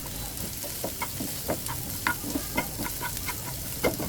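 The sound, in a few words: frying chopped onion and green chilies, stirring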